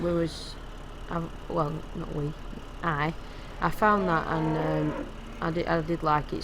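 Cattle moo repeatedly in the cow section of a farm in Farming Simulator 2015, drawn-out calls rising and falling over a steady engine hum, with someone talking across them.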